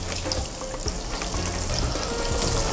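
Fiesta cheese vegetable nuggets frying in oil, a loud, dense, continuous sizzle and crackle close up, steady throughout with faint clicks, no voices.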